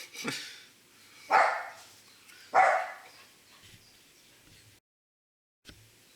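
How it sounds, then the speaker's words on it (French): A dog barks three sharp times indoors, close and separate, followed by a few faint yips and a brief silence. "Il y a un autre chien qui aboie."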